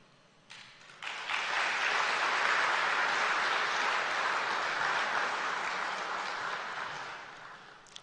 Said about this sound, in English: I'm happy you clapped.